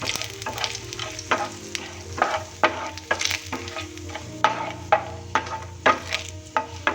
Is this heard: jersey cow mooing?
no